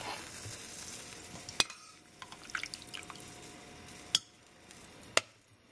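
Vegetables, peppers and dehydrated onions, sizzling and smoking in a hot pan for a one-pot meat meal, a steady close hiss broken by a few sharp clicks of a utensil against the pan.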